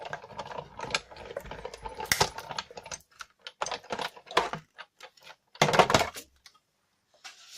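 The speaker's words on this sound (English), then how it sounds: "Let me show you what would happen if I just cut it" Cutting a piece of card for an altered gift craft, a series of sharp clicks and snips in irregular bursts, close and moderately quiet, with silence near the end.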